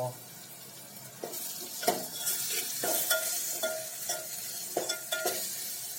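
Ground peanuts fry with onions and chillies in a pan, with a soft sizzle broken by repeated scraping stirs of a spoon against the metal.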